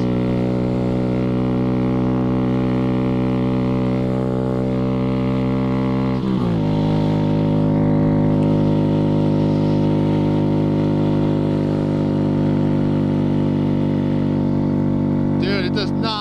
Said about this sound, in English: my bike is so much louder up here